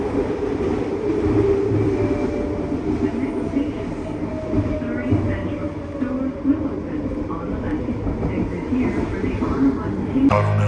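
A steady low rumble and rattle from inside a moving SkyTrain car in Vancouver, continuous throughout, with faint voices in the background.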